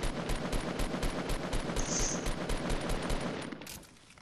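Rapid assault rifle fire from Fortnite, fast steady bursts of shots rattling continuously at close range before tapering off at the end.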